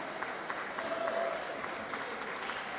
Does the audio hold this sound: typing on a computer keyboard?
no